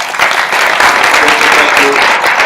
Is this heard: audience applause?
yes